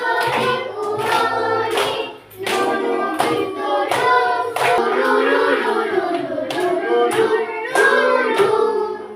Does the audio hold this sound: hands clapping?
yes